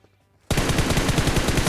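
Rapid automatic gunfire from PUBG Mobile bursts in suddenly after a brief quiet moment, a loud, fast, evenly spaced string of shots continuing to the end.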